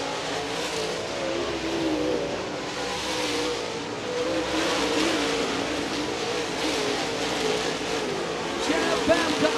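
Late model race cars roar around I-96 Speedway in a continuous, moderately distant drone of engines that swells and fades as the pack circles, with an announcer talking over the noise throughout.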